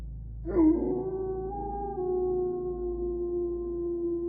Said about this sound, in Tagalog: Narinig ni Marita ang malakas na ungol ng aso